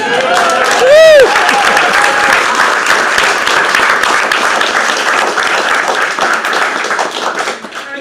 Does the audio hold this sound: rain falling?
no